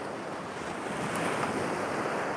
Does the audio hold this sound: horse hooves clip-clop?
no